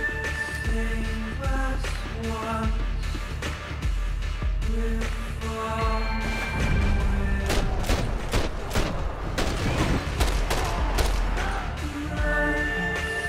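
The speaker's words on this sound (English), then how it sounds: "Throwing grenades now." Grenade blasts and bursts of gunfire in the video game Max Payne 3, heavy booms and rapid shots building in a loud, chaotic firefight over a steady musical backdrop.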